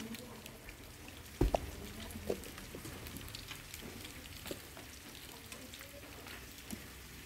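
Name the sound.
chayote stir-frying with garlic in a pan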